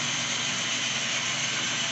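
Scale Trains SDL39 model locomotive running on a home layout, giving a steady, even motor hum and rolling whir that carries on without a break and no talk over it.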